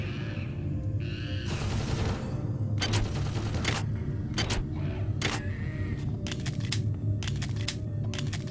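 Turret gunfire in a video game: loud, rapid bursts of automatic shots in several separate volleys over a constant rumbling background of game noise, with no talking.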